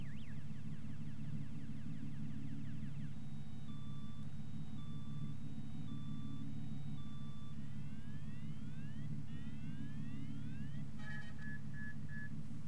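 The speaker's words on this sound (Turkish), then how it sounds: "Aracın geri vitesi bizim yolda duyduğumuz abi, bu araçların güvenlik sistemine bağlı bir ses." Reverse gear warning on a Scania 113 truck in Euro Truck Simulator 2, a steady repeating electronic beep pattern with rising chirps, heard alone over a constant low engine drone.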